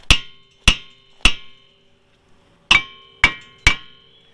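Hammer striking a rusted brake rotor on a 2004 Honda CR-V, six sharp ringing metallic blows in two groups of three, each decaying quickly, close and loud with a pause between groups.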